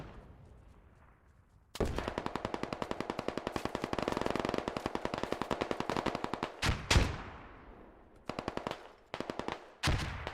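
Heavy automatic gunfire rattles in the video game Squad, dense rapid bursts hammering almost continuously after a quiet start, then breaking into shorter clustered volleys with brief gaps near the end.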